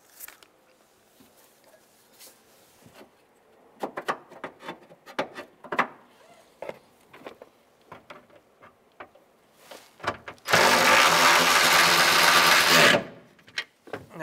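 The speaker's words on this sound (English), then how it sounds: "We're going to thread in our top bolt. And we will tighten down that bolt." Tightening the top bolt on the ignition control module and heat sink of a 1992-1996 Ford F-150, heard as scattered close metallic clicks and ratcheting scrapes, then a loud steady buzzing whir for a few seconds near the end.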